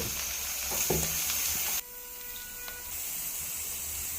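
Taro leaf curry sizzles and hisses as it cooks in a pan, a steady frying sound with a brief stir early on, then quieter simmering with no talk.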